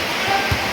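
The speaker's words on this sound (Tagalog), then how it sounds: "grabe ka kusog ang ulan" Heavy rain pours down in a steady, dense wash of noise in Lake Sebu, South Cotabato, heard up close for a brief moment.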